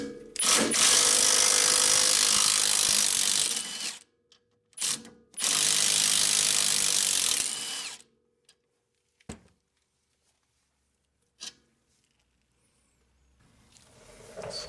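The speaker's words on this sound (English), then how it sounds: "we got to pop that 14mm out, and there's the nut on the other side for that bolt right there" A ratchet works a 14 mm bolt out of the lower control arm on a Honda Accord, with two loud, close, sustained bursts of rapid ratcheting, a brief pause between them, then a few sparse isolated clicks and no talking.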